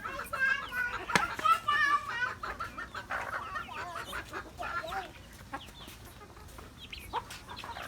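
Hens cluck repeatedly and close by while a child calls to them and scatters feed, the bird calls overlapping the voices before growing quieter.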